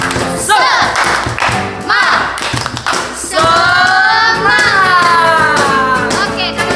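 Children at a GKPA Bandarlampung Sunday school service do the rhythmic 'tepuk semangat' clapping routine: sharp, close hand claps in a patterned beat, followed by loud chanted voices that hold over the last half.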